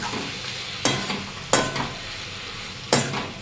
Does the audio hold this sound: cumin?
yes